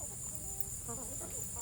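A big Jersey Giant rooster clucks in short, soft, irregular calls, faint and fairly near, over a constant hiss and low background rumble.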